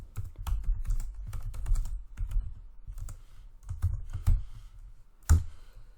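Rapid, close keystrokes on a computer keyboard as a value is typed into a Python program's input prompt, a busy run of clicks ending with one heavier key press.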